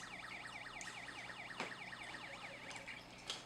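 A small speaker on a homemade flood detection circuit, its probes dipped in water, gives a faint, rapidly repeating warbling siren-like tone that sweeps up and down steadily throughout, with no voices.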